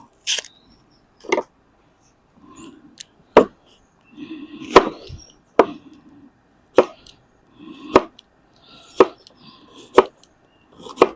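Onion being diced with a knife, a steady series of crisp, close knife strikes on a board roughly every second, with quiet scraping between, no voices.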